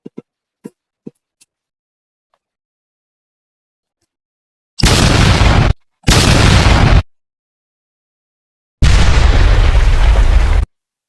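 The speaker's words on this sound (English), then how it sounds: "Over here, explosion, yeah?" Three loud explosion sound effects burst out in sequence, two short roaring blasts close together followed by a longer rumbling one, after a few faint clicks in near silence.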